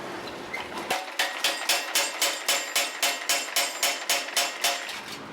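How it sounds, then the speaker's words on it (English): Rapid, steady pounding of a power hammer striking hot steel while forging a blade, around a dozen heavy rhythmic blows in quick succession, loud and close. "we'll take it to the power hammer, taper that sucker out"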